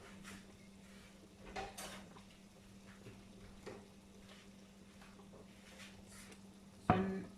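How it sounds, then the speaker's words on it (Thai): Rice is stir-fried in a pan for Thai chicken rice, with soft, intermittent scraping and tapping of a utensil against the pan over a low background hum and a sharper metallic clank near the end. "อันนี้เราจะผัดไอ้ข้าวเนาะ"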